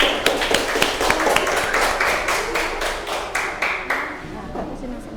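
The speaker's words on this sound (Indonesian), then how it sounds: "Tepuk tangan dulu." Primary school pupils clapping for a classroom group, a quick rhythmic volley of claps in unison, fairly close and loud, fading slightly toward the end.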